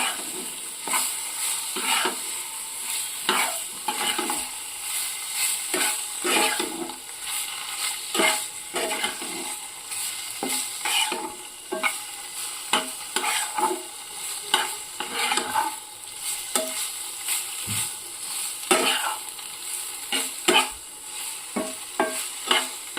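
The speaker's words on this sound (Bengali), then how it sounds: "একদম হালকাভাবে এপিট এপিট নাড়িয়ে এটাকে তুলে নিতে হবে খুব বেশি কিন্তু পনির ভাজবো না" Cubes of paneer fry gently in a pan as a spatula stirs and turns them, producing repeated scraping strokes and light taps over a low, continuous sizzle, close and unaccompanied by speech.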